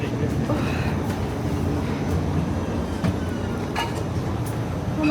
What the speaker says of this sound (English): We're already leaving, driving out of the station.